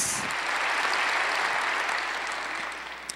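A church congregation applauds together in a steady, sustained wash of clapping that fills the room evenly and fades slightly toward the end, with no talking over it.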